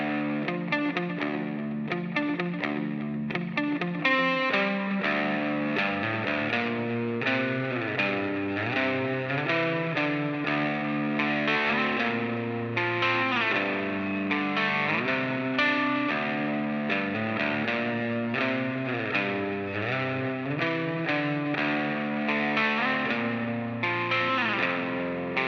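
Electric guitar run through an effects unit with distortion and chorus, playing ringing chords and riffs, steady and full for the whole stretch, close with no talking.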